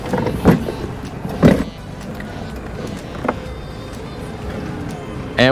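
A mobility scooter with adaptive suspension jumps down a curb, giving a couple of sharp thumps and rattles early on, then a lighter knock and a steady motor whir, with some talk in the background.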